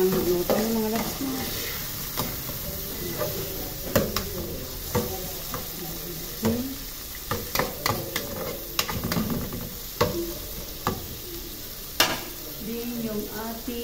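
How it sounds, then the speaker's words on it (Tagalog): Shrimp stir-fried with mixed vegetables in a pan: a continuous sizzle punctuated by repeated clattering spatula strokes and scraping at an irregular rhythm, close and moderately loud. "Ilagay ko na yung aking hipon."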